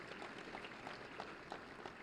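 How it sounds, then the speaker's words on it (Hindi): Applause from the audience at a Teacher's Day award ceremony where state teacher awards are presented, a steady, fairly faint wash of clapping with scattered sharper claps across the full two seconds and no talking. "आप सबकी जोरदार तालियों के साथ"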